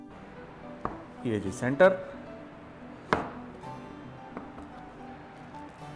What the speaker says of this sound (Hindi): डो को यूं रोल कर लीजिए और अब इक्वल भाग में से काट लेंगे